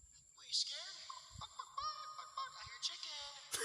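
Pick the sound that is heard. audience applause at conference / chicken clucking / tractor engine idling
chicken clucking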